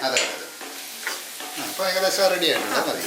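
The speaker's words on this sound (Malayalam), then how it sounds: "ഇതിൻ്റെ ആ ഒരു പച്ച മണം മാറുന്നതനുസരിച്ച് ഇളക്കി കൊടുക്കാം" Masala for an egg curry stirred and frying in a pan over a low flame, with soft sizzling and scraping strokes of the spoon, close and continuous.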